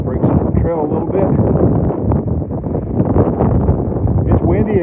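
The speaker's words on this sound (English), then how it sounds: "It's windy again. It's been windy every day, it seems like." Wind blowing along a rocky river trail by the James River near Glasgow, buffeting the microphone in continuous loud gusts and rustle throughout, with no clear voices over it.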